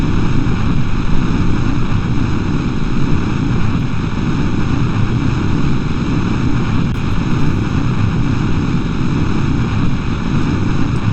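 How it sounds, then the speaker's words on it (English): A steady, loud engine roar drones on without a break, an even mechanical rumble of a turbo ramjet engine at full power in the video game Kerbal Space Program. "Come on, turbo ram jet engine, get me some velocity."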